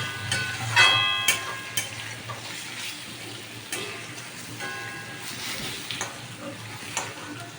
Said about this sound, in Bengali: দিয়ে আমি পনিরগুলোকে একটু হালকা করে ভেজে নেব।